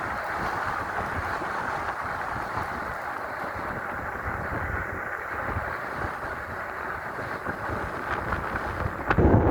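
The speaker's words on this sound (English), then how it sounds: "It's so windy, it's holding me back." Strong wind rushes past while a 5000-watt electric bicycle coasts downhill at about 30 miles an hour, a steady broadband roar of wind noise that swells toward the end, with no talking.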